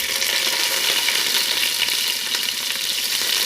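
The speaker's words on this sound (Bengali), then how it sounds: "ওয়েলটা একটু গরম হয়ে আসছে, এর মাঝে আমি পেঁয়াজ কুচি দিয়ে দিব।" Chopped onions sizzle in hot oil in a pan, giving a continuous close crackling hiss while cooking bottle gourd with mung dal.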